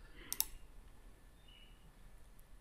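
A computer mouse gives a couple of quick, sharp clicks in a quiet room while selecting a folder, then near silence follows.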